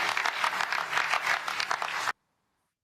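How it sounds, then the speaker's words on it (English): Light audience applause, a brief patter of clapping at even strength that cuts off abruptly into silence after about two seconds. "So note the light applause."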